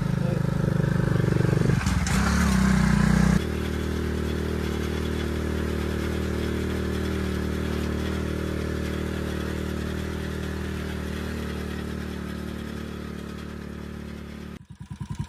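A motorcycle runs on a rural village path near a fish pond, its steady engine drone loud and close throughout, with a clattering burst early on before the engine note drops away at the end.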